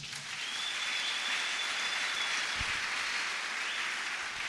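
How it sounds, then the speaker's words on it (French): A church congregation claps together in sustained, dense applause, steady and fairly loud throughout, with no clear voices over it. "Acclamons Jésus."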